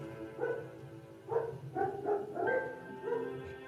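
A voice imitates a dog barking, a handful of uneven woofs spaced across a few seconds, close and fairly loud.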